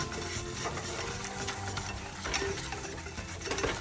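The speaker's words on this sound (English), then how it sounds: "you want to whisk it for about a minute until everything's smooth. And we're basically making a roux." A whisk scrapes and stirs a gluten-free roux in a pan on medium-high heat, giving a steady, close, rhythmic clatter with faint sizzling underneath and no talking.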